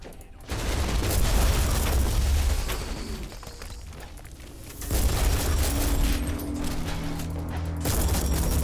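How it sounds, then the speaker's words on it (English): An explosive blast in the Warhammer: Inquisitor video game that collapses structures such as columns and walls, a loud sustained rumble of boom and debris that dips briefly and then surges again. "The blast can wipe out multiple enemies and collapse structures, like columns or walls, for even more damage."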